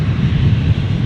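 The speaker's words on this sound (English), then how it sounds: "Jetstar 809 just rotating here. The 320 heading down to Sydney." A Jetstar Airbus A320 rotating on takeoff from Brisbane, bound for Sydney, gives a loud, steady low engine roar that fills the whole moment without a break.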